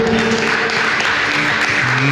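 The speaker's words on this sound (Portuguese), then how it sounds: "Aplaudam o Senhor" A church congregation applauding, a dense, steady wash of clapping under sustained organ or keyboard tones and voices.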